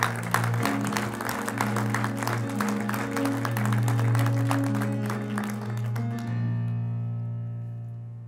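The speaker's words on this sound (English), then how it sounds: "Clap like you mean it." A church congregation claps and applauds in a steady, fast rhythm over sustained organ or keyboard chords, the clapping stopping shortly before the end while the music carries on.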